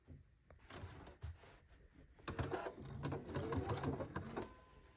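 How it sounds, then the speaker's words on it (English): A sewing machine stitches a dart in fabric, its motor running in bursts that grow louder and steadier toward the end, with soft handling noises between runs and no talking. "so now we'll go sew the dart"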